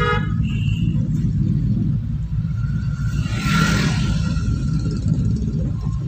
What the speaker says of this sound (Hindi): यहाँ पे लॉन्ग हॉर्न पुश करो क्योंकि टी पॉइंट है